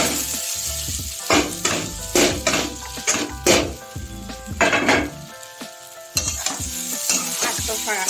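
Flattened rice being stirred into a pan of fried potatoes and peanuts, with loud scraping and clattering spoon strokes in bursts over a steady sizzle, and no voices.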